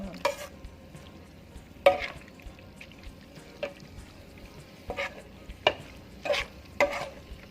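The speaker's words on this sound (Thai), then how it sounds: "แล้วก็รวนจนหมูสุกนะคะ" Minced pork stir-frying in a pan for larb: a low steady sizzle broken by repeated scraping strokes of a spatula, spaced irregularly every second or so, close and moderately quiet.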